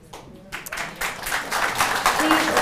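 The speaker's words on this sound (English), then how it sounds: "Please hold your applause so we can get through as many questions as possible." Audience applause at a congressional district debate, quickly swelling from a few claps into full, dense clapping across the hall, with a voice underneath.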